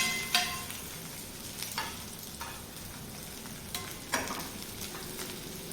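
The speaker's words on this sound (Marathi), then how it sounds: "हा जो आपण ठेचा करून घेतला आहे हा तेलावर परतून घ्यायचा आहे" Crushed okra thecha sizzles and fries in hot oil in a pan, with a steady soft hiss. Scraping stirs punctuate it every second or so, and no one speaks.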